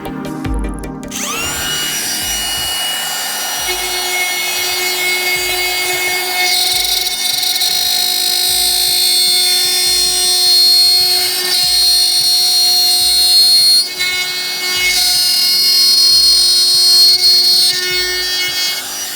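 A DeWalt 18V XR brushless cordless router, model DCW604, cuts wood freehand with a steady, loud high-pitched whine. It spins up sharply at the start, then holds near and continuous, dipping slightly as the bit bites into the wood.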